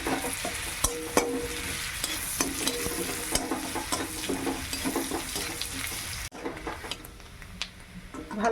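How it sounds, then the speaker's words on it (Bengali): Onion and a clove of garlic frying in a pan for a single-portion home lunch: a steady, close sizzle with stirring scrapes that drops to a quieter simmer near the end, with no talking. "ভালো করে ভাজা হয়ে গেছে"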